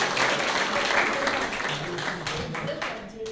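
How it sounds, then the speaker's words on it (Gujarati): An audience claps at the inauguration of a vocational centre, a steady spread of applause that slowly fades over a few seconds while a voice speaks over it. "વેરી ગુડ, જોરદાર તાળીઓ વધાવી લઈએ."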